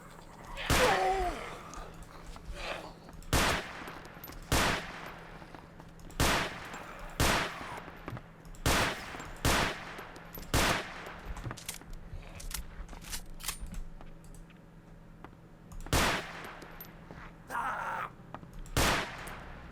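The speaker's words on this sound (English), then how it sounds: "Making as many shots as I can count. It's a bit noisy, a bit more noisy than I expected" Single gunshots from a weapon in ArmA 2: DayZ Mod ring out loud and close, about a dozen sharp cracks spaced unevenly a second or two apart, with a voice talking briefly between them.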